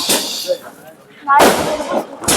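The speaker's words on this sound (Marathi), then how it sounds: "फटाके पण लावले बघा" Sharp, crackling bursts of firecrackers go off in quick clusters, with a pause between them, amid a lively crowd of voices at a village birthday celebration for a bull.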